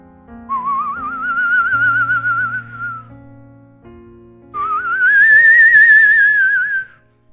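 Two long, wavering whistles with a vibrato, each rising then sliding down, made by a person mimicking an eerie tune, loud and close.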